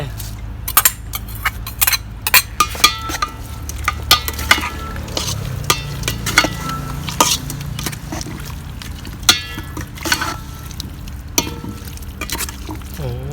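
Vegetables go into a pot of simmering herb-braised beef shank stew, with repeated clatters and scrapes of stirring over a low bubbling simmer, close by and busy throughout.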